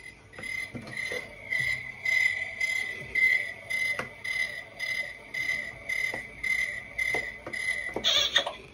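Crickets chirp in a steady, rhythmic pulse, a continuous high trilling that carries on without any voices.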